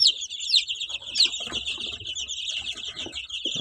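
A brood of 15-day-old chicks cheeps steadily at close range, their high, rapid peeps overlapping throughout with a few soft thumps and shuffles beneath.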